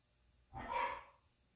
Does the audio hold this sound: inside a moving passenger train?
no